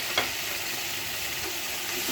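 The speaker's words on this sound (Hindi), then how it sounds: "चिकन को फ्राई करेंगे।" Chicken fries in a pan for fried rice, giving a steady, close, continuous sizzling hiss with faint stirring movement and a couple of small ticks, and no talking.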